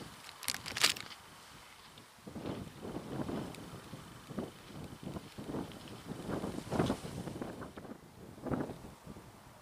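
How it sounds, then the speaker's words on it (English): Gusty wind buffets the microphone on top of Ivinghoe Beacon in uneven bursts, rising and falling with a rough, rumbling roar and no voices. "I'm guessing all you can hear is the wind"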